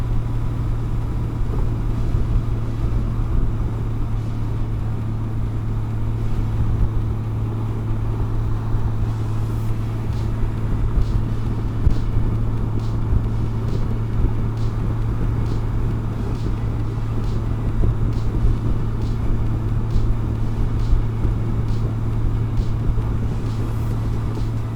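A 2018 Honda Goldwing Tour motorcycle picks up speed, giving a smooth, steady engine hum with a low drone and rushing wind. The sound is even and sustained throughout, with no one talking.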